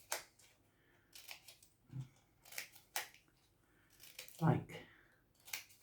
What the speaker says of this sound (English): cut shark's teeth into them